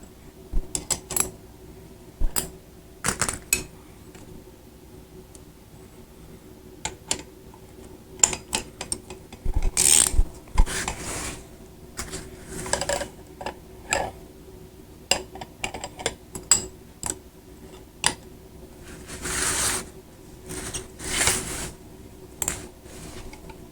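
A bearing puller on a motorcycle wheel is tightened with a hex tool, drawing a tapered rod in to spread the puller against the bearing. Irregular metallic clicks and ratcheting bursts come in uneven clusters over a quiet background, with no talking.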